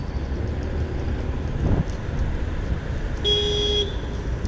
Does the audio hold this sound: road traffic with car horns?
yes